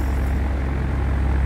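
The starter of a B-17 bomber engine in the FSX flight simulator whirs with a loud, steady, fast low pulsing drone over a brief stretch.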